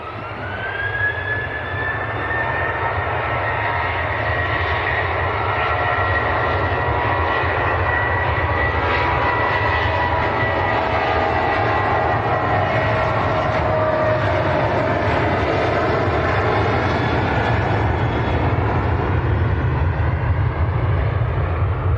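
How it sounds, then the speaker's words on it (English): A Ryanair jet bound for Krakow takes off at Manchester Airport, its engines swelling into a sustained, steady roar with a whining tone that rises and then slowly sags, heard from a moderate distance with no voices. "Ryanair to Krakow."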